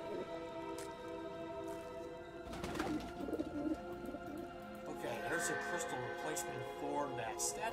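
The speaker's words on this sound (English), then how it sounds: "Glad to find another living creature, but the bird's sitting on top of something." A pigeon-like bird coos softly in the Phantasmat 5 hidden-object game, its calls set under a steady ambient music bed in a creepy backyard scene.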